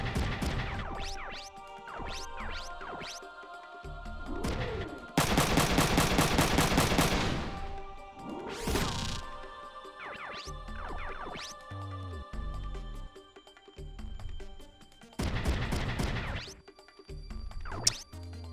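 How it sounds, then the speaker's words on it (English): Slowed-down gunfire from the mech game Front Mission 3: repeated shots and a long sustained rapid burst, loud and close, spaced with short pauses and ringing tails, no talking. "you can hear the, like, gun shoot slower"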